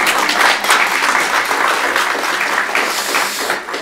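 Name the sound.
congregation applauding during a sermon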